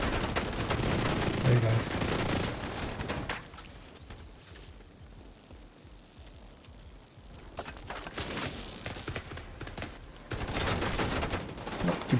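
Sustained video game gunfire aimed at the player, dense bursts of shots at the start and again near the end with a quieter stretch between, a voice talking over it.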